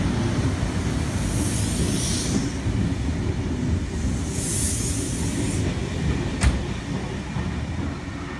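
A Sydney Trains train at Epping station platform rumbles past continuously, loud and close, with hissing bursts, rhythmic wheel clatter and a sharp metallic click near the end.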